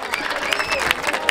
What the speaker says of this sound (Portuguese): Palmas nessa batalha,